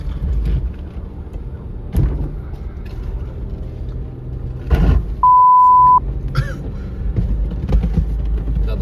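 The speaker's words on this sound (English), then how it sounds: "That's ice cracking underneath us, which is a bit unnerving." Ice on a frozen lake cracks beneath an Isuzu D-Max Arctic Trucks AT35 pickup, with low booming knocks at irregular intervals over the steady rumble of the moving truck, alongside a few sharper pings and creaks.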